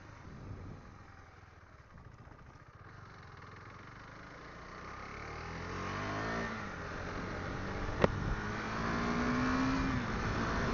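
A KTM Duke 390 motorcycle being ridden, its engine note rising and falling steadily under wind rush, with one sharp click partway through and a brief rising whine near the end.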